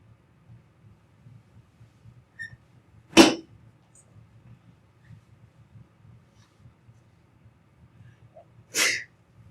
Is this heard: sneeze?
yes